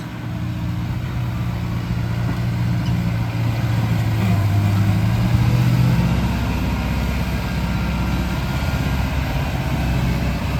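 Fendt 313 tractor levelling a wheat field: a steady, loud engine drone with a low rumbling hum that swells slightly midway, continuous and close, with no talk.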